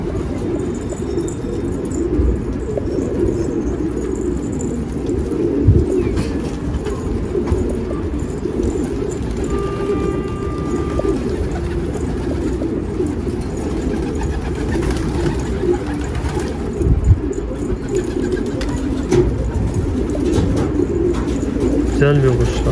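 Domestic pigeons coo softly in the background amid steady ambient rumble, with occasional brief louder bursts and a faint tone midway.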